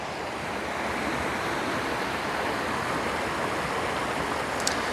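Fast-moving water rushing over rocks in a stream, a continuous, loud, broad roar that is close and unbroken throughout, with no voices.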